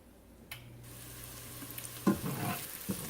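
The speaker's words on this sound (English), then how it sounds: "when it's in the colander, just rinse it all off really good" Water rushes and splashes over beans in a colander, a brief hissy pour over a low steady hum.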